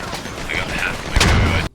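Gunfire from the Squad military shooter game crackles amid a busy battle mix, with a sharper burst near the end before the sound cuts off abruptly.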